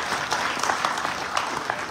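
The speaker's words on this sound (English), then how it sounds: "More applause, right?" Brief burst of applause from a crowd at a Knights of Columbus state meeting, dense and fairly loud clapping with no voices over it.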